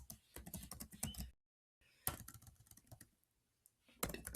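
Fingers tap out a password on a computer keyboard in quick bursts of soft clicking keystrokes, with a short silent pause between runs, close and fairly quiet.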